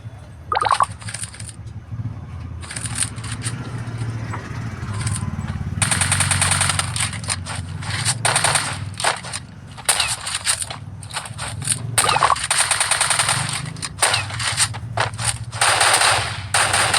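Rapid bursts of automatic gunfire in a shooting video game, sharp crackling volleys in irregular clusters repeating loudly over a steady background hum, with no talking.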